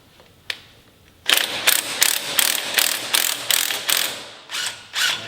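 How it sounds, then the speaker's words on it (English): A puller is used to remove a part on a Volvo 242 AWD build: after a couple of faint clicks, a series of about nine loud, evenly spaced ratcheting bursts sounds close up, with no talking. "so we're going to try a puller."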